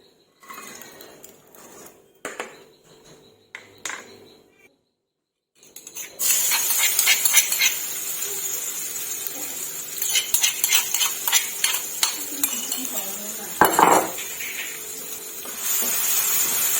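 Leftover oil from frying eggs hisses steadily in a wok as Thai holy basil stir-fry ingredients go in, with a spatula scraping and clinking against the metal pan. The sizzle grows loud after a quiet start, broken by sharp scrapes.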